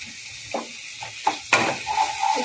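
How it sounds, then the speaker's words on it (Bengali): Pav bhaji masala with Kashmiri chilli powder frying in a pan, a soft sizzle with a few scraping stirs and clinks, close and moderately quiet, no talking. "একটুখানি ভেজে নেব।"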